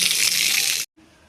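Water sprayed from a hose onto the walls of a new house under construction, a loud steady rushing gush that cuts off abruptly after less than a second, leaving quiet background.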